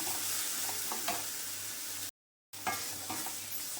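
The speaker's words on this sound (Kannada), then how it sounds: "ಒಂದು 5 ನಿಮಿಷ ಇದನ್ನು ಚೆನ್ನಾಗಿ ಬಾಡಿಸ್ಬಿಡೋಣ." Mango rice mixture, a raw-mango chitranna for the Ugadi festival, sautéed in a pan, giving a steady close sizzle with scattered stirring scrapes and a brief dropout near the middle.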